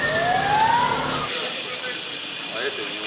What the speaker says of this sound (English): We can also hear ambulances in the distance.